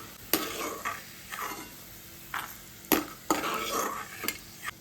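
Peanuts fry in oil in a pan while a spoon stirs them, scraping and clinking against the metal in several bursts over a soft, steady sizzle. It is close and there is no talk.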